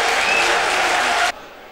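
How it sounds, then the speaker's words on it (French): A stadium crowd at a 2004 football match applauds loudly and steadily as Swedish players are substituted, then the roar cuts off abruptly near the end, leaving quieter ambience. "Voilà les applaudissements pour les Suédois"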